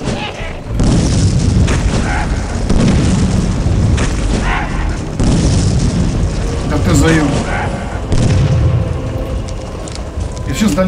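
Loud booming explosions from the game Clive Barker's Undying, rumbling blasts and weapon fire repeating throughout, with someone talking over them.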